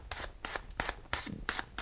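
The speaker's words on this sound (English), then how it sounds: "this process of sanding it with the 1000 grit thing here" Short, rhythmic strokes of 1000 grit sandpaper rubbing a VIC-20 keyboard key, about six quick scrapes in under two seconds, close up with no talking.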